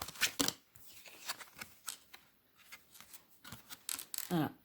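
Tarot cards shuffled and rubbed together in bursts of papery riffles and slides, close and fairly quiet, with short gaps between handfuls.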